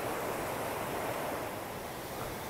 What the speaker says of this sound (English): Just got to show you some more of this river as I'm walking along the side of it.